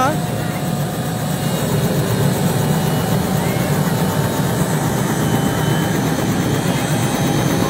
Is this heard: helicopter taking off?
yes